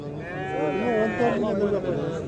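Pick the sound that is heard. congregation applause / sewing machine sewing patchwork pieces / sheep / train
sheep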